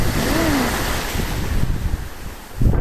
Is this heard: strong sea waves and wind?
yes